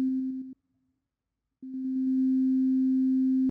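Pure chiptune sine tone programmed in MilkyTracker with a volume effect, heard as a short pulsing burst, a second of silence, then a longer steady tone that begins with a few volume pulses and holds to the end, loud and alone.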